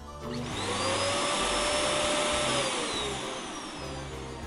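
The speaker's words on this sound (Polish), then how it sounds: "Odkurzacz." A household vacuum cleaner runs steadily at close range, a loud broadband roar with a whining motor tone that rises and holds, with faint background music underneath.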